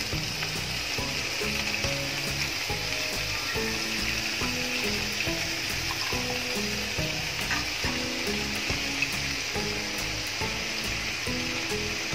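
Cockscomb (kurdu) greens, squeezed of water and chopped, sizzle and fry steadily in a hot pan, a dense continuous crackle with faint rhythmic stirring knocks underneath, close and even throughout.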